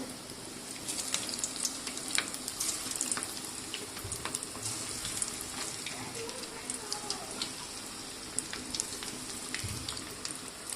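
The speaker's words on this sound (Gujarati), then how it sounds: "આ રીતે મેં થોડા રાઈસ પકોડા તૈયાર કરી દીધા છે, એને પણ આપણે તળવા માટે મૂકી દઈશું" Rice pakoda fritters sizzling in hot oil, a steady bubbling hiss with scattered crackles and pops running throughout at moderate, close level.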